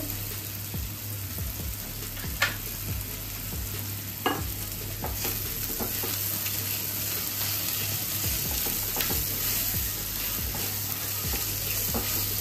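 Ground cumin and red chili powder frying with mustard paste and green chilies in a pan for a Bengali chuno fish curry, stirred with a few sharp scrapes over a steady low sizzle, close and fairly quiet.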